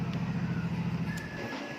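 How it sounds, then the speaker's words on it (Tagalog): A motorcycle, not the NMAX under repair, pulls up with a steady engine hum and low rumble throughout, fairly close and loud, briefly rising in pitch near the end with no talking. "Pero yung tunog na yun, motor ko yun."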